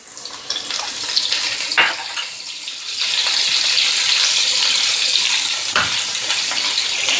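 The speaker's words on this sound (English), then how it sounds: "So we'll start by sauteing our garlic. Once our garlic is sauteed a little, we'll add in our green chilies." Garlic and green chilies sauté in a hot pan, giving a steady, close hiss of frying that swells louder and holds even partway through, with a few faint clinks.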